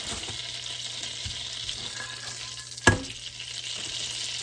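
Leftover onions sauté in a pan for a Southern breakfast, giving a steady soft sizzle close by. A single sharp clink or tap cuts through partway, and no one speaks.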